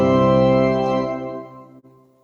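Final bar of the hymn tune Unser Herrscher played on a keyboard: a sustained organ-like chord ringing out and slowly fading, with a brief change midway before the release.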